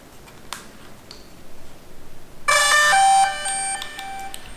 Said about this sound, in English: I'm just going to turn this one on. So that's turning on right now. Listen to the noise that it makes.